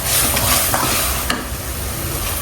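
Shredded chicken sautéing in a pan, loud and close, with a continuous sizzle and occasional stirring scrapes.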